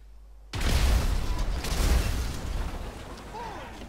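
Car blown up in the video game GTA 5: a sudden loud blast after a brief quiet moment, followed by a long, noisy rumbling roar that slowly fades.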